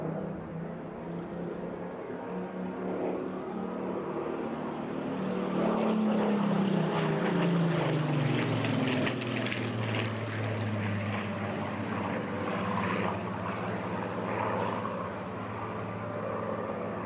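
A Spitfire flying at the Eastbourne International Airshow, a loud sustained propeller engine drone that swells as it passes overhead with a falling pitch, then fades slightly.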